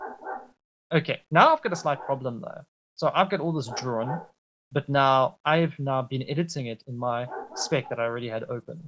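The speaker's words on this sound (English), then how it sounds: "Sorry, excuse the dogs." Dogs bark and yip in short bursts in the room, mixed in with someone talking steadily over them.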